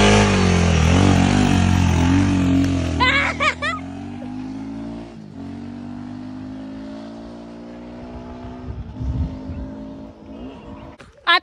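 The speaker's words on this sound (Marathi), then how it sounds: "गाडीचा आवाज दूरूनच येतो" A new motorbike engine revs loud and close during a ride, with rising and falling pitch sweeps. Brief throttle bursts come through as it eases off, and faint wind-like noise runs underneath.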